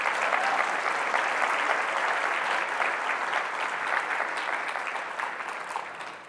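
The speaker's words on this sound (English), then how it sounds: "Please applaud for the photo" Sustained applause from a conference audience at a keynote session, a dense steady clatter of clapping that holds at a constant level for several seconds and tapers slightly at the end, with no speech over it.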